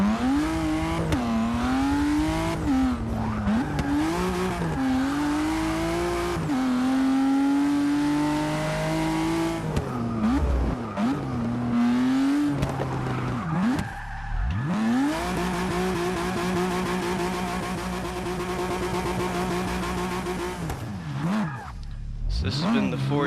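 Ford GT racing in Forza Motorsport 6, its engine revving up and down through gear changes with tire squeals, loud and continuous, while a person talks over the driving.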